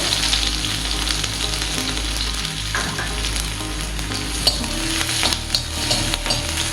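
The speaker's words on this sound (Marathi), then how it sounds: "तेल गरम झालंय. आता आपण एक एक वस्तू भाजून घेणार आहे. आता अगोदर कांदा टाकू." Chopped onion sizzles and fries in hot oil for Maharashtrian misal, a steady close crackle with occasional stirring scrapes of a spoon against the pan, no voices over it.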